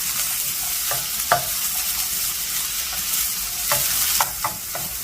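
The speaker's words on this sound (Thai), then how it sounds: "จะผัดเป็นลำดับแรกๆคู่กับเห็ดหอมค่ะ" Baby corn and shiitake mushrooms are stir-fried for a vegetarian noodle dish, a constant sizzle under repeated sharp scraping and tossing strokes of a spatula, loud and close, with no speech.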